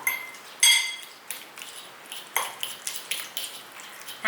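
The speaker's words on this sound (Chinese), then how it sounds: "用叉子把南瓜压烂" Steamed pumpkin mashed with a fork on a plate, giving a series of light clinks and taps of metal against dishware, irregular and close, with no talking.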